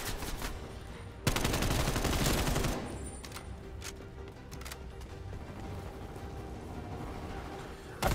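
Light machine gun firing in Call of Duty: Black Ops Cold War Zombies, dense rapid bursts of automatic gunfire with a long sustained volley, mixed with scattered shots and game effects.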